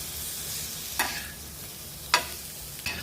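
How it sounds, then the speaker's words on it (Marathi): Egg pieces are sautéed in spice masala in a pan over low flame, with a soft steady sizzle broken by three sharp scraping stirs of a spoon. "हे अंड्याचे तुकडे मसाल्यामध्ये छान परतून घ्यायचे आहेत आता मंद आचेवर आपण हे परतून घ्यायचं आहे"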